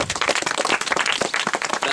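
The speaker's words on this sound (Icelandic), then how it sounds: "Þá við að klappa aftur." A group of people clapping their hands in a quick, uneven rhythm after a pressurized bottle pops off its stopper, close and moderately loud for two seconds, with no talking.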